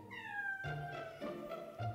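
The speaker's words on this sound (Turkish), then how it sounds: "Mama olmadığı zaman kedilerim Aslan hariç miyavlamayı pek sevmiyorlar" A house cat meows in a rising, drawn-out call, followed by a few shorter, overlapping meows, fairly close and clear with no talking.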